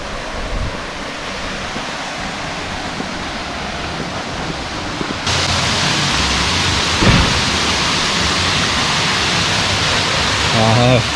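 A small waterfall on a green hiking trail in Grenada rushes as a steady, loud wash of falling water, growing fuller midway through.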